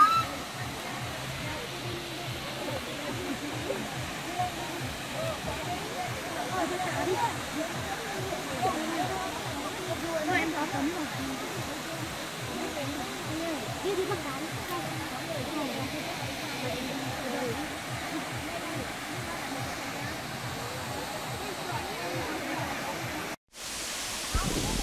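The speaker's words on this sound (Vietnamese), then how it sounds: "Thác nước chảy từ rừng ra rất là đẹp." Pa Sỹ waterfall in Vietnam's Central Highlands pours down from the forest in a continuous, broad rushing roar that stays steady throughout, with a person talking over the water.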